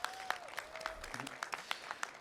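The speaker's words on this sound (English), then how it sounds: "Let's get a round of applause," A small crowd claps outdoors at a Pride flag raising at Pasadena City Hall, a faint, scattered patter of hands with a brief voice underneath.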